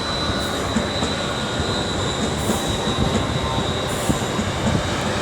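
London Northwestern Railway units 35110 and 35403, coupled as a double set at Stafford on the West Coast Main Line, rumble steadily with a loud, continuous roar, faint wheel squeal and occasional clatter, and no voices.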